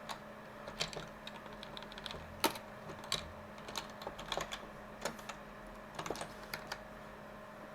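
Typing on a computer keyboard, quiet irregular clicks and taps in short bursts, close and soft over a faint steady room hum, with no talking.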